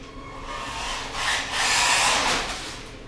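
A GPTOYS S912 33 mph RC truck runs on the ground with a steady, loud electric motor whir that swells and eases as it drives close by, heard alone.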